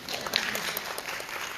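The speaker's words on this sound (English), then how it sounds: "Round of applause." A short round of applause, faint and distant, at a school's state of the school address, a brief patter of clapping.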